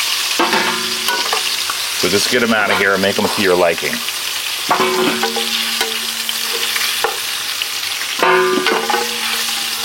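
Lamb sizzles steadily in a hot pan while a person talks over it, with a few scraping stirs and utensil clinks close by.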